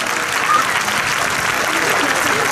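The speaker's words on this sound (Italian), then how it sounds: "quindi un applauso anche a mio padre" Audience clapping at the Miss Piazza Armerina beauty pageant in 2021, a loud continuous wash of hands from an outdoor crowd lasting the whole stretch, with faint voices mixed underneath.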